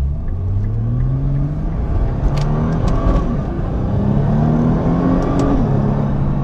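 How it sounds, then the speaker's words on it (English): A Nissan GT-R accelerates hard with its transmission in manual race mode, the engine's steady loud drone climbing in pitch through several gear shifts, heard from inside the car with no talking. "I've got it in manual mode, and I'm in our race mode too on the transmission"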